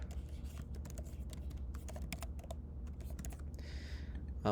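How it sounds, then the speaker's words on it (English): Rapid, uneven keystrokes clatter on a computer keyboard over a low steady hum, with the typing close and continuous before a short burst of noise near the end. "I can type."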